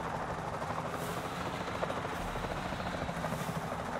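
A video-game helicopter, rammed by a flying Quetzal pterosaur, produces a continuous, even rotor roar that stays loud and steady with no pauses.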